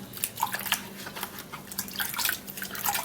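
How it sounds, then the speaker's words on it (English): Half a cucumber washed under running tap water, with splashing and dripping patter close by, steady and moderately loud throughout, no voices. "wash it very well"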